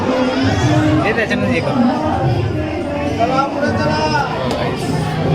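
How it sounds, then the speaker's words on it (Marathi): Crowd chatter fills the grounds of Vajreshwari temple, a steady, loud babble of many overlapping voices close by with no pauses throughout. "गर्दी आहे"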